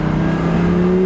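A Lamborghini Gallardo supercar with a manual gearbox accelerates while merging, its engine note climbing steadily in pitch, loud and close, with no one talking.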